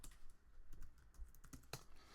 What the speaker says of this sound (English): sorry I'm typing with one hand